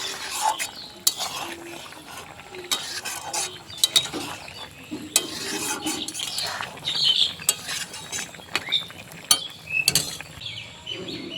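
A vegetable curry with lentil dumplings is stirred in a pot, making close, irregular scraping, knocking and creaking sounds of a utensil against metal, with no talking.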